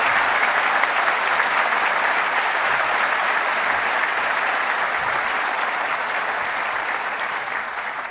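A large school commencement audience gives sustained applause for award recipients, a dense, even wash of clapping that fills the hall for several seconds before easing slightly toward the end.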